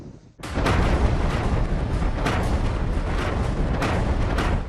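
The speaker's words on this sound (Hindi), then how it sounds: "इजरायल की तोपें लगातार गरज रही है और गाजा पट्टी पर बम बरसा रही है।" A heavy, continuous roar of Israeli artillery fire on the Gaza Strip, with repeated booming blasts rolling over each other, loud and sustained throughout.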